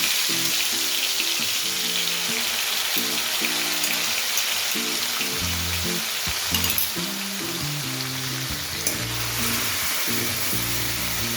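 Ginger, garlic and green chilli fry in hot oil with a steady, close sizzle throughout, while a softer low tonal sound drifts beneath it and a few louder crackles and bursts break through.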